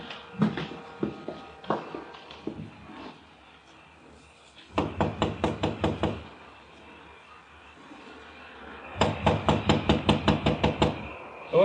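A radio-drama door knock: two bursts of sharp, evenly spaced raps on a door, each about six or seven blows, heard up close after some faint shuffling movement.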